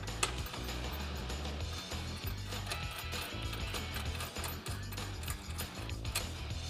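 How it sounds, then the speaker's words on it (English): A ratchet fitted with a 6mm Allen key socket tightens the mounting bolts of curved oval step bars on a 2007-2018 Jeep Wrangler JK four-door, giving a steady run of close, quick clicks with brief pauses. "You're going to use a 6mm Allen key socket to tighten these bolts up."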